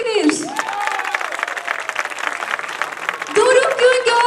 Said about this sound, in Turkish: bu kale içinden yüklü yüklü alkışlar gönderelim istiyorum